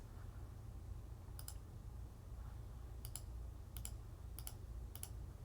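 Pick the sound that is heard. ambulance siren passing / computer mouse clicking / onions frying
computer mouse clicking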